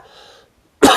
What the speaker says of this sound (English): Excuse me for a moment because I have to cough.